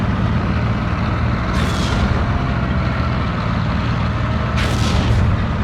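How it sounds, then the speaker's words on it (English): An artillery barrage rumbles in the WWII strategy video game Steel Division 2, a loud, dense, continuous roar of booming blasts, with two sharper bursts standing out and no talking. "Another artillery barrage."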